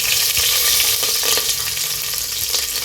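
Whole spices crackling and sizzling in hot ghee and oil for ghee rice, a dense, close, continuous frying hiss with occasional stirring taps and no talk.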